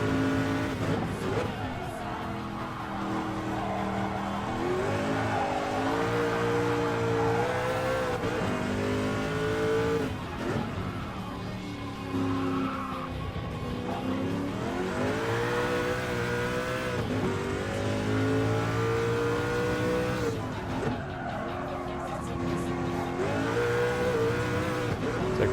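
A Group C race car accelerates hard at full throttle on a test day, its engine roaring loud and close with rising, stepped harmonic sweeps through repeated gear changes, sustained throughout with no pauses.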